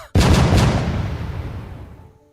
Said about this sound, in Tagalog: Nagpaputok pa ng baril si Sargento Rubio